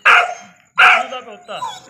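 A five-month-old Gultair puppy gives two sharp, close barks, then a softer whining yelp, all loud and clear with nothing else heard.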